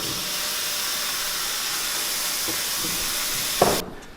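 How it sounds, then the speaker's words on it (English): Steady rushing hiss of tap water pouring into the boiling chamber of a Pure Water Mini Classic CT water distiller, continuous for several seconds before cutting off with a brief clunk. "I'm going to fill up the boiling chamber from the tap"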